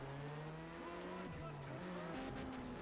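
A Saleen S7 race car in the racing game Juiced 2 drones steadily at high revs with gear shifts and brief tire squeal, the engine tone loud and continuous throughout.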